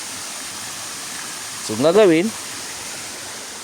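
A steady, hissing rush of flowing stream water runs throughout at an even level, with someone speaking briefly over it in the middle.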